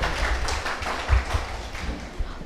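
An audience claps together at a Christmas celebration, a steady dense patter of many hands with a few louder bursts, heard fairly close throughout.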